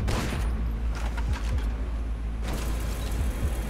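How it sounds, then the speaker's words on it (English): Shotgun fire in the Toxikk arena shooter, a dense, continuous barrage of blasts with a steady roar beneath and a brief lull near the middle before the firing picks up again. "Oh, that's a shotgun."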